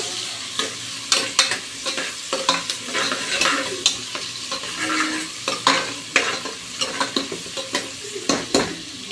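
Chettinad chicken ingredients, including a large chopped onion, frying and being stirred in a pan: steady sizzling with repeated scraping stir strokes, close and fairly loud, with no talk.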